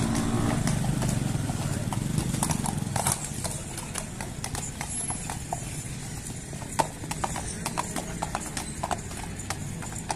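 A horse offered for sale clip-clops steadily as it is ridden and turned, with close, even hoofbeats over a continuous background murmur and occasional distant voices.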